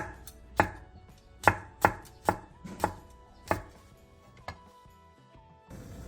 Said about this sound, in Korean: 청양고추 한 개를 얇게 쫑쫑 썰어주세요